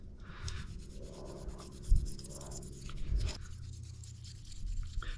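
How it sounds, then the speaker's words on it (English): Gray Scotch abrasive pad scuffing down painted exterior parts of a Fox-body car, a steady close-up rubbing and rasping with a few sharper strokes, no voices. "Just gonna scuff this down, or scuff these down, I should say, with a gray Scotch pad"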